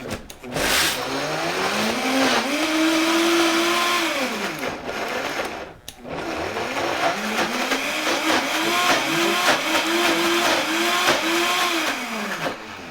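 A countertop blender whirs up in a loud burst, cuts out briefly, then pulses again with rising and falling motor whine, running alone without talk.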